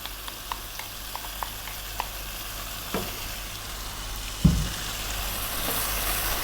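Chicken curry cooks in a pan after whisked yogurt goes in, giving a steady soft sizzle with scattered light pops and a brief stir or clatter near the end.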